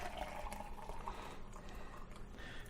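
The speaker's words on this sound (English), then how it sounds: "I get the rest of the juice out of there and then pour it into a glass." Celery juice is poured into a glass, giving a faint, steady liquid trickle that lasts a few seconds against quiet background noise.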